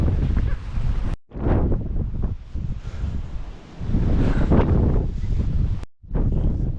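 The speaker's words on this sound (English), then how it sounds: "It's so windy and so wet" Strong, wet wind on a bridge in Scotland buffeting the microphone in loud, rough gusts that swell and dip, with brief dropouts between surges.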